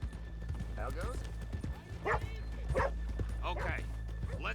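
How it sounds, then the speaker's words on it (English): Horses in the Red Dead Redemption 2 video game, with steady hoof clip-clop and a snort or whinny running under a voice and the game's background music. "let's leave the horses here off the main drag"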